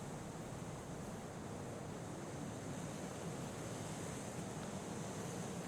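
Steady rushing roar of a waterfall in the video game Kholat, a dense continuous wash of falling water with a windy hiss, constant and loud throughout with no talking.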